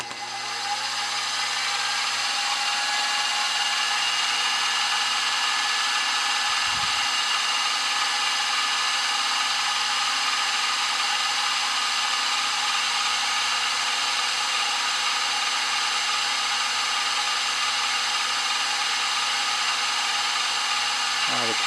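A CNC spindle machines a base plate workpiece, giving a loud, steady high-pitched whine with a constant hum beneath it that runs unbroken for over twenty seconds.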